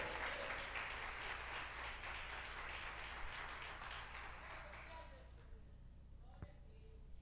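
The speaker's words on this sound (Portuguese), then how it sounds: "Aplauda Ele" A church congregation applauds during a celebration service, a fairly faint, steady wash of many hands that tapers off after about five seconds into quieter room tone with a voice.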